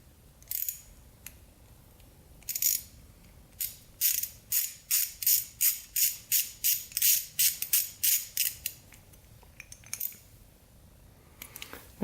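A hand ratchet tightens a part on a Yamaha Banshee quad with a rapid run of close, sharp metallic clicks in a steady rhythm, preceded and followed by a few isolated clicks; no talking.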